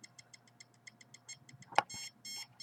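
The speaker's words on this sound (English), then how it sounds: "that's the detector going off" A detector sounds a fast series of short, regular electronic beeps, close and moderately loud, running steadily throughout with a sharper click midway, and no talk.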